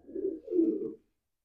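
Tumbler pigeons in a coop give two soft, low, throaty coos close by, the second longer than the first, then fall silent.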